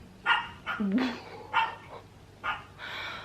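A dog barks several times nearby in short, uneven bursts, with a brief whine in between.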